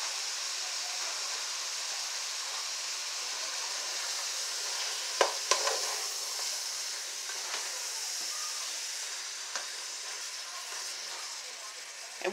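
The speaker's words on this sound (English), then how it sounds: "And what you want to do is just let your ground beef brown." Ground beef browning in a pan for spaghetti sauce gives a steady, fairly quiet sizzle with a few sharp clicks and stirring taps.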